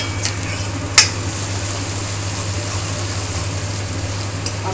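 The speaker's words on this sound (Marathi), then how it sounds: "हा पूर्ण मसाला आपण घातलेला आपण याच्यामध्ये परतून घेणार आहोत तेल सुटेपर्यंत." A steady, soft sizzle of masala sautéing in oil for chole in a pan over a low flame, with a low hum beneath and a single sharp utensil click early on.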